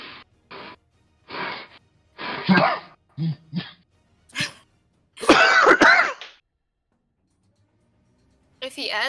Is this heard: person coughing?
yes